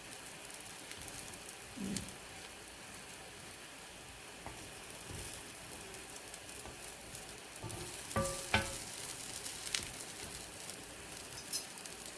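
A corn flour roti cooks in a pan with a quiet, steady sizzle and a few scattered louder crackles and pops midway, with no talking.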